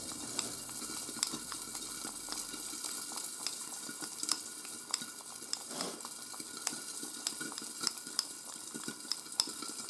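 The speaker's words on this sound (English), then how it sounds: "So you stir natto like that at least 50 times" Natto being stirred vigorously in a bowl with chopsticks, giving a close run of sticky, wet clicks and squelches that repeat steadily throughout with no talking.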